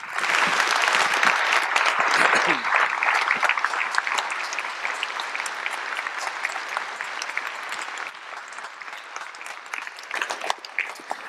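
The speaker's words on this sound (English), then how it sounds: "let's go ahead and give all of our candidates a round of applause for participating tonight" Audience at the 2023 Westfield, Indiana mayoral debate gives the candidates a round of applause, a loud, dense burst of clapping that gradually thins and trails into scattered claps near the end.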